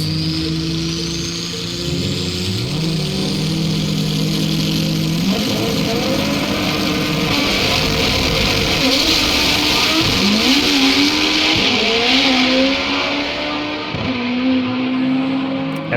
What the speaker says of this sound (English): Australians know how to do burnout for real. Here we go, Civics.